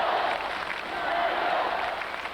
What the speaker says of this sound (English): The crowd really behind him in this game. Listen to them.